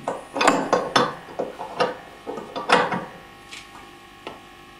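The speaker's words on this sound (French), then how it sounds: "Que vous resserrez comme vous l'avez enlevé. Donc nous, c'est toujours une clé à pipe de 21." A 21 mm socket wrench tightening a scooter spark plug, giving a series of quick ratcheting metallic clicks in uneven bursts, close and fairly loud, thinning out toward the end.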